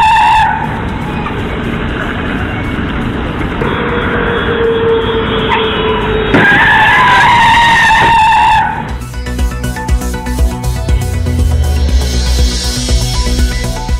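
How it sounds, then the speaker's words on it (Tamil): A car on a road near Omalur, caught on CCTV, skids with a loud tire squeal and engine noise, then an abrupt change as it strikes a motorbike crossing the road, followed by a harsh, clattering aftermath. "ஓமலூர் அருகே பைக்கில் சாலையை கடக்க முயன்றபோது மோதிய கார்"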